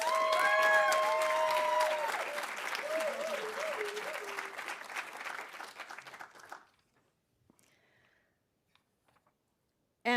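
Audience at an arts awards ceremony breaking into loud applause that thins out and fades to near silence after several seconds, with a few whoops over the clapping before a sudden burst at the very end.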